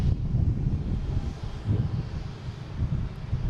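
Condor airliner in Green Island livery at Boston Logan, bound for Frankfurt, with a steady low engine rumble and some wind buffeting that holds at an even level throughout.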